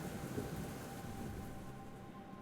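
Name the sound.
rain and thunder in the video game Black Book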